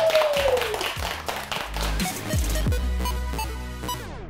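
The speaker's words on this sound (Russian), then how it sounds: "Громкие аплодисменты!" Audience applause at a televised team quiz show after the first round's winner is announced, clapping mixed with a descending musical sting and low synth hits, fairly loud throughout.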